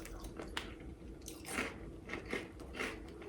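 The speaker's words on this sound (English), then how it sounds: "You're still crunching on deep fried corn, but it's airy, it's light." Lemon-flavored deep fried corn Cheetos are bitten and chewed up close in a quiet room, giving a run of faint, irregular crisp crunches.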